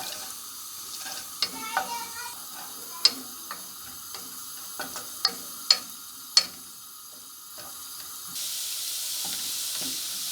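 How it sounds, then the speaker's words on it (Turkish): Chopped onions sauté in a pan on the stove with a soft, steady sizzle, broken by a few sharp clinks and scrapes of utensils. "bir tane orta boy soğanımı küçük küçük doğramıştım. Ocağıma bırakıyorum. Ve biraz kavuruyorum"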